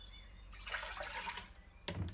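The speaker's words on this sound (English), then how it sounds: "And then I'm going to put some water" Water pours into a flower vase holding a gift bouquet, a soft splashing trickle that runs for about a second, then a sharper splash near the end, close but quiet over low room noise.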